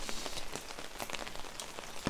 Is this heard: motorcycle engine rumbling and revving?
no